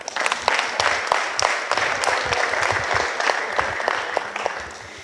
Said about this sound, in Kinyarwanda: mubanze mwiha amashyi d'abord